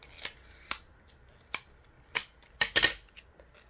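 Adhesive tape is handled to join folded paper triangles into paper blocks: a few faint, close, crisp snips and crackles arrive in short separate bursts, with no talking.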